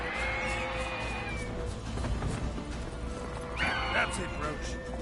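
Roach the horse from The Witcher 3 whinnies and gallops, hooves clip-clopping steadily beneath game music and ambience while a player talks over it.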